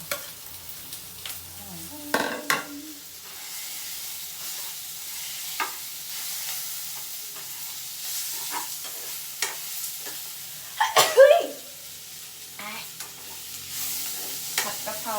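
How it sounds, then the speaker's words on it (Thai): Onion stir-frying in a hot pan for Thai basil chicken, a steady sizzle with scraping spatula strokes and clanks at irregular intervals, no talk. "คั่วคั่วให้มันหอม เราก็จะใส่ หอมหัวใหญ่ตามลงไป"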